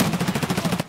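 Rapid automatic gunfire from Escape From Tarkov, a tight burst of about a dozen evenly spaced loud shots fired close by, filling under a second.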